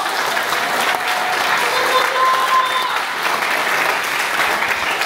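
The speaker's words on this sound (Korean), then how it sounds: "우리 목사님 힘내시라고 박수 한번 주세요." A church congregation claps steadily and loudly throughout in support of the pastor, a dense continuous wash of applause with faint voices mixed in.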